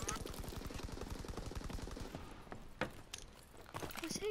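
Rapid automatic gunfire from a World War II-era weapon in Call of Duty WWII team deathmatch, a steady burst of closely spaced shots for about two seconds, then scattered single cracks and impacts, with game noise throughout.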